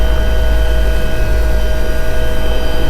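Bell Cobra helicopter flying an airshow display, pushing into a steep dive and rolling left, a loud, steady roar of turbine and rotor with a persistent whine, close and unbroken.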